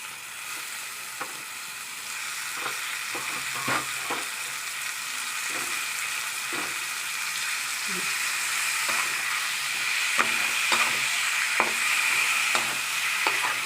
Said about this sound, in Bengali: এবার আমি মাছগুলো ছেড়ে দেবো।